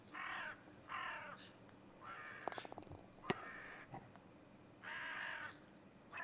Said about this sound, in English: you'll be making the same noises as the crow